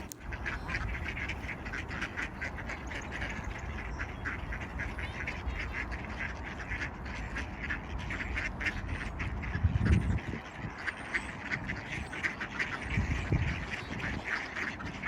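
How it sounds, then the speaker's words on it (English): Several ducks quack continuously while being fed outdoors, a busy, noisy flock close by with overlapping calls throughout and a couple of louder bursts near the end. "When I'm feeding the duck, I'm feeling very happy because they are noisy and so funny."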